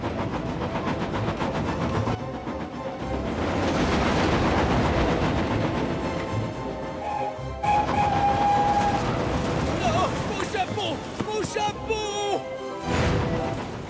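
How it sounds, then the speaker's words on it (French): Spencer, a cartoon steam engine, speeds along the rails pulling wagons, a continuous rumble with hissing and clattering, then sharper squeals and bursts near the end, partly under French speech. "Spencer roule tellement à fond les wagons pour essayer de gagner un peu de temps et d'arriver en avance"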